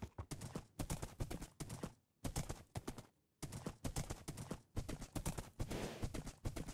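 Horse hooves clip-clop in Minecraft Earth, a steady run of close, loud hoofbeats in quick rhythmic bursts with a couple of brief pauses and no talking.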